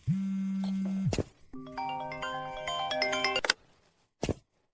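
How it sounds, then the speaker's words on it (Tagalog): An electronic ringtone plays a steady tone, then a quick run of stepped melodic beeps, ending with a brief click and a short blip. "Nina, sagutin mo ang telepono."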